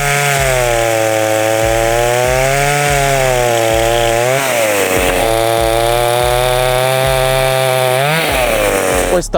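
A Dnipro-M petrol chainsaw cuts through a dry tree branch up in a tree, its engine screaming loud and close with a steady high whine that dips and rises as the chain bites the wood.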